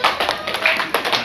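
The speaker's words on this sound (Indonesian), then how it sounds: "Kalau saya bilang perhatian, tepuknya seperti ini." A group claps out a quick, rhythmic pattern of sharp hand claps as a classroom attention signal, the claps close and evenly spaced in short bursts.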